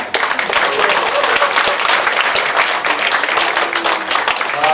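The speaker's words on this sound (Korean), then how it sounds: "정말 다시 한번 뜨거운 박수 부탁드리겠습니다" An audience applauds after a lecture by lawmaker Choo Mi-ae, dense continuous clapping filling the room from start to finish, steady and loud with no voices rising above it.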